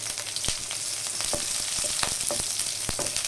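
Onion frying in hot oil with mustard seeds for a tempering, a steady close sizzle broken by sharp pops and crackles scattered throughout, no talk.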